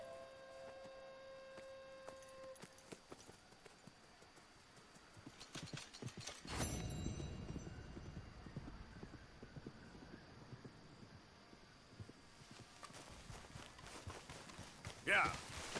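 Horse hooves clip-clopping in the video game Red Dead Redemption II: faint, scattered hoofbeats that build into a steadier rhythm partway through, with soft mechanical game sounds around them and occasional speech.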